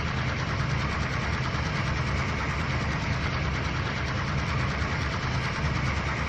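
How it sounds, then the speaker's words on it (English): A noisy locomotive engine idling in the Trainz 2019 railway game, a steady, dense rumble with knocking vibration that runs loud and unbroken throughout, with no talk. "got a noisy engine"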